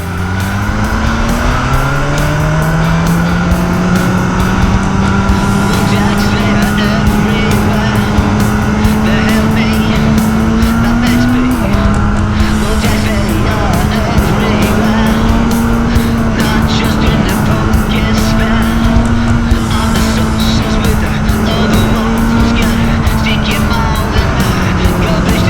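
A BMW M1000R motorcycle with a Bitubo steering damper runs on the road, its engine and exhaust droning loud and close with a steady rising and falling pitch as the rider shifts and cruises, wind noise underneath.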